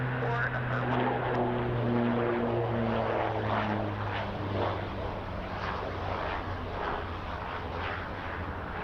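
A Pacific Coastal Airlines Beech 1900D turboprop from Comox at Kelowna airport, a steady propeller drone with strong low tonal hum, moderately distant and fairly quiet, a faint voice over it.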